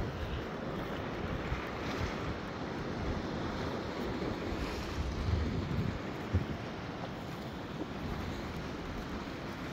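Steady ocean surf washes continuously along Shellharbour beach in New South Wales, Australia, a broad unbroken roar mixed with gusty wind buffeting the microphone, with no talking.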